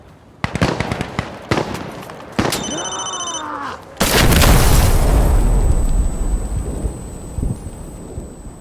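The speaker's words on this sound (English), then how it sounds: "Frag going out!" Frag grenade in the video game Insurgency Sandstorm: a loud close boom with a long rumbling roar, preceded by gunshots and crackling battle sounds and followed by high ringing.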